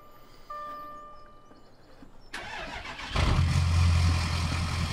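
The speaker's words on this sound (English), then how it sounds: "We're gonna fire up the engine." A Ford Super Duty pickup truck engine in Farming Simulator 2017 cranks and turns over, then settles into a low, steady idle after some faint clicks and tones beforehand.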